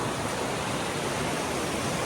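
Water rushing and flowing steadily at Goutameshwar Mahadev temple, a close, continuous dense roar with no breaks, like a small stream or spillway pouring nearby.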